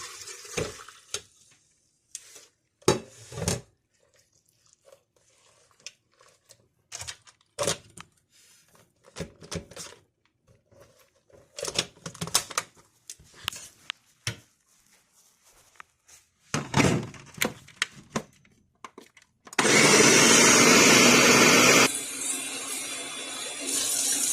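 Blender whirring ají and árbol chiles for pozole: after a stretch of scattered clinks and handling noises, a loud, steady motor roar kicks in and runs for the last few seconds.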